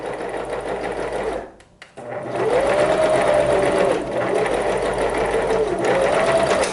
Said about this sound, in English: you're gonna sew 1/8 of an inch from that folded edge